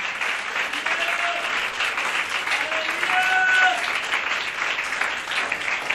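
A church congregation claps loudly for Jesus Christ during a Hindi-language sermon, a dense, steady wash of applause that swells slightly near the middle and carries on throughout.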